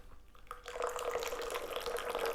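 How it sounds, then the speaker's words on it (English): Raw pu-erh tea is poured from a height after a quiet start, a soft, continuous splashing trickle with bubbling that lasts about two seconds. "gonna do a high pour here and try to cool the tea down a little bit and get some oxygen"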